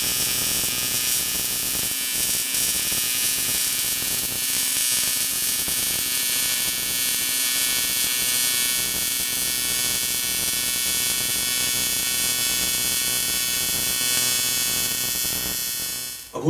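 An R-Tech Power TIG 260 AC TIG welding an aluminium inside corner joint, a loud continuous buzzing hiss with steady electrical hum that holds unbroken for about sixteen seconds before cutting off abruptly.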